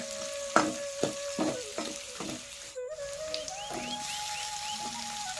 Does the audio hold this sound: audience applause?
no